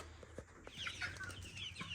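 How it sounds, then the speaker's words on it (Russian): Young chickens cluck and peep softly, several brief calls overlapping at a moderate distance in a quiet farmyard. "А вот и цыплята."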